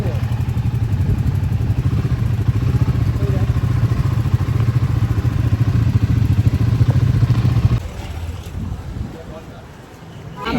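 A Royal Enfield motorcycle idles with a steady, loud low thump under wind noise, then cuts off near the end of the clip as the bike is parked, with faint voices in the background.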